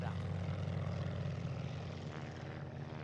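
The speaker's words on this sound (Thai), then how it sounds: "เครื่องบินขึ้นพอดี" A propeller plane taking off in the video game Call of Duty: Vanguard, a steady close engine drone with a buzzing low rumble, holding level for a few seconds.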